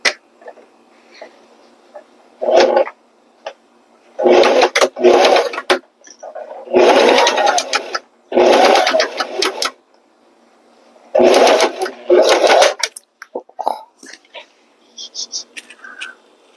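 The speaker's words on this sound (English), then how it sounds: "My sewing machine had trouble with the bulk" A home sewing machine top stitching across a bulky bag seam runs in several close, loud bursts of rapid needle clatter, separated by pauses with small clicks and handling noise.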